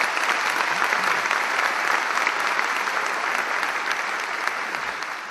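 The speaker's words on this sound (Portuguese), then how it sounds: "eu pediria uma salva de palmas para ele." Sustained, dense applause from a large audience at the opening session of a Spiritist congress in Alagoas, a loud even roar of clapping that holds steady and eases slightly toward the end.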